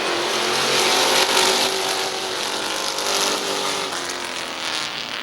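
Race cars roar off at the green flag of an 8-lap heat race at Midvale Speedway, a loud sustained wall of engine noise swelling and holding without talk.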